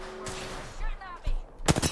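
Gunfire in the battle royale game Apex Legends comes in short bursts, with a tight volley of rapid shots crackling near the end amid other game sounds.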